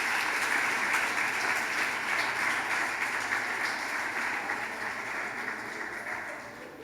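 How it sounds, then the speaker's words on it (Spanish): A church congregation clapping for the Lord at a Sunday morning service, an even, continuous roar of many hands that holds steady for several seconds and eases off a little at the close. "Aplauda al Señor en esta mañana"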